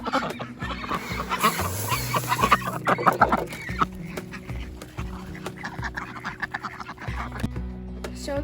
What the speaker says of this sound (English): our ducks can be really loud